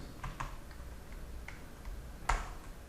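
Keys clack at a computer keyboard while code is typed, a few scattered faint taps followed by a sharper, louder keystroke near the end, over low steady room hiss.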